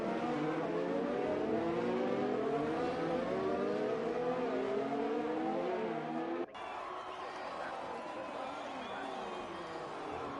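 F2 race cars in a sim racing game at the Belgium circuit, engines droning at high revs with shifting pitch, a steady close whine while a commentator talks over it.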